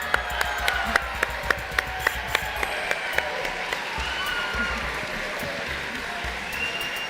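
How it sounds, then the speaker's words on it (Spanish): An audience at the EVA 2023 award ceremony applauds steadily in a hall, with loud distinct claps up front over a wide crowd wash and low music underneath. "Un aplauso más Vamos, fuerte,"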